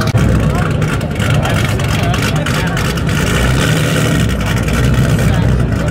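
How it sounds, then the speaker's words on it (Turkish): Modified Dodge Challenger with a 392 Hemi engine idles and rumbles loudly nearby, deep exhaust burbling steadily with a slight rise in revs, while people talk over it outdoors. "Bak Dodge Challenger. 392 Hemi motor."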